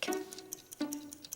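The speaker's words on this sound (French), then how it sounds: "C'est le mécanisme à l'intérieur de la minuterie qui tourne. Et chaque fois qu'il tourne, il fait tic-tac" A kitchen timer's internal mechanism ticks steadily as it winds down, giving a few crisp, regularly spaced clicks that sound close and fairly quiet.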